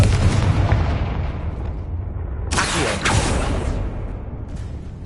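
A Confringo blast spell explodes in Hogwarts Legacy, a loud whooshing burst with a second punch right after it, heard over a dense, rumbling game background.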